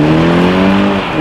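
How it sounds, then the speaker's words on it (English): A BMW 330i xDrive sedan in sport mode accelerating hard, its engine note rising smoothly and loudly in a short, continuous pull with no voices. "330i sedan here, X-Drive, in sport mode here, up to speed."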